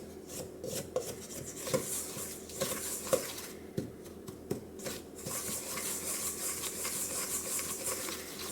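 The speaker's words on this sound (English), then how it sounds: "So something to scrape it off that spoon there so that it comes together a little more cohesively" A rubber spatula rasps and scrapes against a spoon, working brown butter shortbread dough free in a series of close, gritty strokes with small clicks, growing more continuous toward the end.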